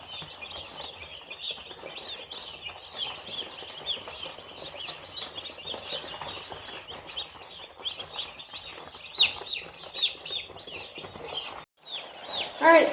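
Around a hundred meat chickens cluck together while being counted into their pen, a continuous soft chorus of overlapping clucks with a few louder bursts near the end.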